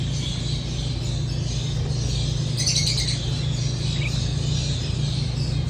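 Lovebirds in an aviary holding about ninety pairs give a continuous chorus of shrill chirps and squawks over a steady low hum.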